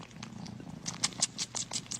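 A chunky house cat purrs steadily and close, a low continuous rumble with soft rhythmic breathy pulses running through it, heard alone without any voices.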